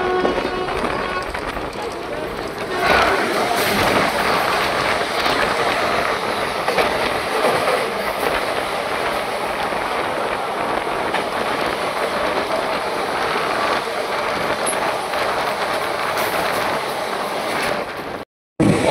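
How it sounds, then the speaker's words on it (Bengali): The 13187 Maa Tara Express runs at speed toward Bolpur, a loud, continuous rumble and rattle of wheels on rails with clickety-clack beats, heard from on board, ending in an abrupt cut. "আমাদের ট্রেন এখন বোলপুরের উদ্দেশ্যে চলবে ননস্টপ 19 কিলোমিটার"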